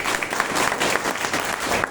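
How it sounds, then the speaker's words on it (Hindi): An audience claps loudly and steadily to welcome new guests at a public gathering in Araria, the dense applause filling the whole moment with no voices over it. "एक बार नए मेहमान जोरदार हो जाए, ताली हो जाना चाहिए"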